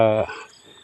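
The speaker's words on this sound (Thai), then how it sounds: "มีแต่เสียงจิ้งหรีด" A cricket chirps at night, one loud, close, buzzing burst that fades quickly into quiet background.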